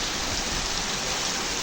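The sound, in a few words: rain falling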